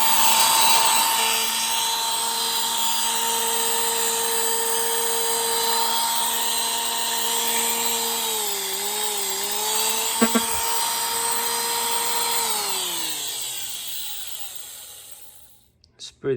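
A small Dumore electric hand grinder runs with a steady high-pitched whine, its pitch wavering briefly under load before it spins down and stops near the end.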